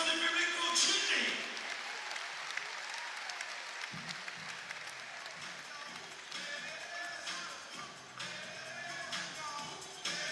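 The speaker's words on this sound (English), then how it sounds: "Applaudissements du public pour Jin Lee." Audience applause for performer Jin Lee at a live event, a sustained wash of clapping and crowd noise that carries steadily through the whole stretch, with a brief surge near the start and murmuring under it.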